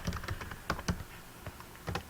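Quick, uneven keystrokes clatter on a computer keyboard during typing practice on a study website, a close, steady run of taps with no voices.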